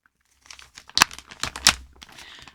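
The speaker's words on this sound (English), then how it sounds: "Sorry about the crinkling" Close, sharp crinkling of a plastic bag holding crocheted blanket motifs, in a burst of irregular crackles and rustles with two loud peaks, no talking.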